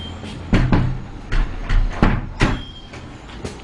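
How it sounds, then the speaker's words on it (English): A bedroom door is pulled shut early in the morning, giving a few thuds and a latch click among handling knocks and rustling, fairly close and with no talking. "Close my door."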